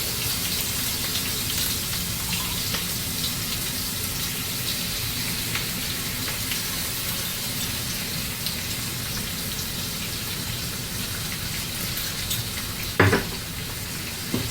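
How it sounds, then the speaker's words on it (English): Doubanjiang, hot broad bean paste, frying in oil over low heat with blistered green peppers, a soft, steady crackling sizzle throughout, with a brief clatter of the utensil near the end. "Stir it into the oil, then mix the ingredients in."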